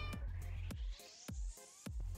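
A house cat meows loudly and insistently, giving about five drawn-out, rising calls in quick succession close to the microphone, alone without speech.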